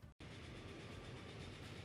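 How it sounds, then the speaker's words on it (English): A train in the railway simulation game Transport Fever 2 rumbles along steadily after a brief cut, a continuous rolling rail noise with a faint clickety-clack at a low, even level. "So I just have to watch this train and wait for it to pick up passengers"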